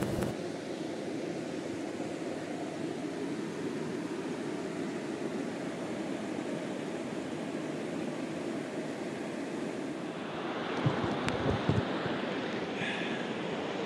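A waterfall at Cataratas dos Couros, Alto Paraíso de Goiás, Brazil, roars continuously, a broad even wash of rushing water with a few brief knocks near the end.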